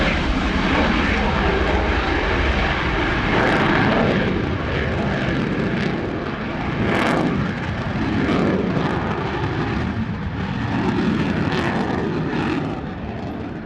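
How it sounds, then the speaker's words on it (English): An F-16 fighter jet flies a display at an air show, its engine producing a loud, continuous roar that rises and falls in sweeping surges as it passes repeatedly. "The F-16, I believe, now setting up for its"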